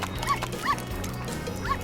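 A small dog gives three short, high yips spaced across the moment, heard over a low background hum, with no talking.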